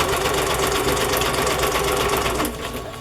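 A domestic sewing machine does straight stitching on journal pages of transparent pattern tissue. Its loud, close, continuous mechanical whir and rapid needle chatter ease slightly toward the end.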